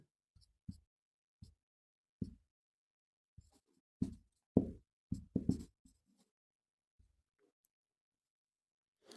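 Chalk or a marker taps and scratches across a board in short, scattered strokes with quiet gaps between them, close and fairly faint in an otherwise silent room.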